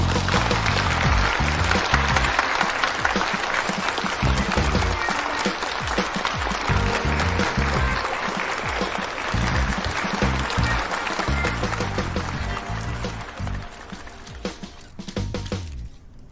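Audience applause at a mobile phone product presentation, steady clapping from a crowd that fills the whole stretch at even strength before easing slightly toward the end.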